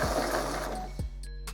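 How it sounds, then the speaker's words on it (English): An Epson Stylus Photo R340 inkjet printer whirs mechanically while charging ink, with a steady motor hum and then a thunk, followed by a couple of short clicks and servo chirps, heard up close with no voices. "when it says charging ink, what it's doing is taking any ink that's in the cartridges and dragging it down to where it needs to be within the printer"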